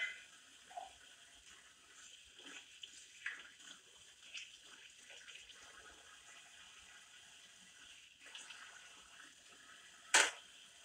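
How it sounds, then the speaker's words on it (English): Tap water runs from a faucet while being brought up to temperature in a kitchen, a faint steady trickle with soft clatters, a brief sharp sound near the end. "so I'm trying to get the water hot."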